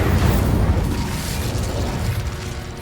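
A fire spell cast in Hogwarts Legacy sets off a loud, dense roaring burst that stays strong and rumbling for a few seconds, with crackling noise across the whole range and no voices.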